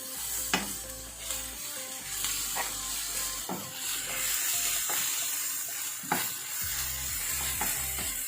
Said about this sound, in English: You need to continuously keep it stirring so that the sugar doesn't get burned.